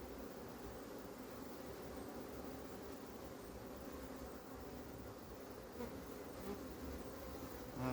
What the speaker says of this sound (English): Quite a few bees.